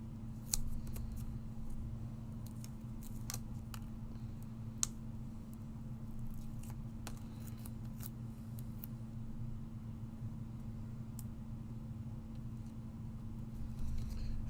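Scissors make light, intermittent snips through foam craft cards covered with protective paper on both sides, heard fairly close over a steady low background hum, with no speech.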